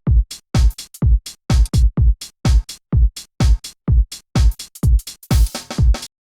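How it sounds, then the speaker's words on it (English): Crisp hi-hat samples played soloed on the offbeat in a triplet-feel dance beat, a steady run of short, bright ticks with some layered hits, loud and alone. "And then we've got a hi-hat on the offbeat."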